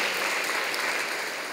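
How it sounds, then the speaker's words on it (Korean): Church congregation applauds scholarship recipients at a Sunday evening service, an even wash of many hands clapping at moderate volume, steady for the whole short stretch. "큰 박수로 축하해 주시기 바랍니다."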